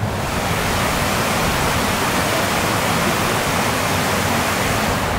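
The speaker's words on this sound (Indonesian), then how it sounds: "Ini kan ada sungai nih." River rushing beside a forest trail on Gunung Halimun, a dense, steady roar of flowing water that is loud and unbroken from start to finish.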